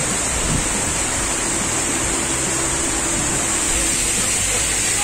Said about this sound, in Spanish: Nos encontramos en la cascada del Naque.